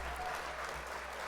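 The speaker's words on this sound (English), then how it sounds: "Let's hit the old applause here." An applause sound effect played on a LEGO-building livestream, a short dense burst of clapping at a steady level throughout.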